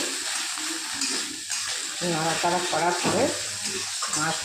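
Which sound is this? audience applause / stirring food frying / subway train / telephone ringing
stirring food frying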